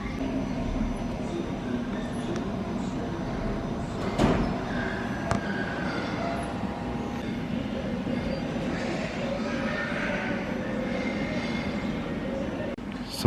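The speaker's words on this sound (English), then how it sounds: "These buttons here control the trains." Model trains run through a Dr Pepper-themed miniature world exhibit, a steady low rumble and whir with a couple of faint clicks, under a quiet background murmur.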